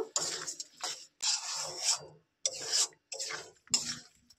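A spoon stirs and scrapes a thick bean chutney sweetened with jaggery in a pan, heard as repeated rasping strokes in bursts with short pauses between, close by and moderately quiet.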